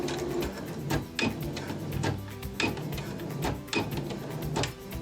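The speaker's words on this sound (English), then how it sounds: "and forward stitch to lock in place." Sewing machine running forward stitches while assembling a fabric bolster beanbag, in repeated short rhythmic bursts of whirring needle action close to the microphone.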